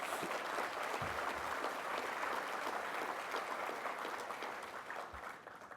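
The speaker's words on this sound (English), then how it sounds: "collective applause." Sustained audience applause at the opening of the Fiji Tourism Expo 2016, a dense, steady wash of many hands clapping that holds throughout and tapers slightly toward the end.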